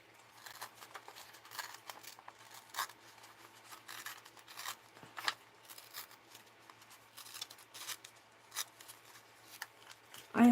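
Scissors snipping and rasping through paper cut from an old book, a steady run of soft, close, quiet cuts and rustles with no talking.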